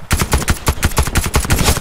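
Rapid automatic gunfire in the video game Warface, from a SCAR-H rifle, a loud close burst of about a dozen evenly spaced sharp shots.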